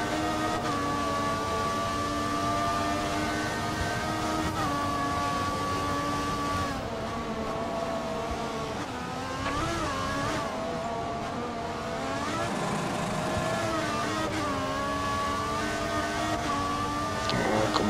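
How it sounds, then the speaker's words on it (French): Formula 1 race car engines whine steadily in the F1 2014 video game at Suzuka while closing on a Caterham, holding a loud, continuous high-revving drone with gear-shift dips and pitch sweeps. "Là, je suis en train de revenir sur une Caterham, probablement celle de Kobayashi."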